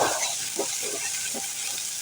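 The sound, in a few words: ginger-garlic paste frying in oil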